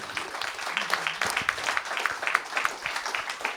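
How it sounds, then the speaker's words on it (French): A small audience claps steadily at a literary event, with dense, even applause of moderate loudness running throughout and faint murmurs underneath. "Vous pouvez continuer à applaudir"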